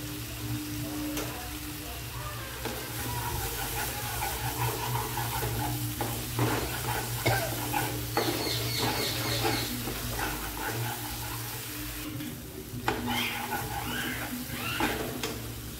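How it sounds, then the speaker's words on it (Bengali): Meat and spices stirred and sautéed in oil in a pan, with a steady close sizzle broken by repeated spatula scrapes and clinks, loud and continuous with no talk. "যতক্ষণ তেল না ছাড়বে কষাবো। দেখো তেল ছেড়ে দিয়েছে।"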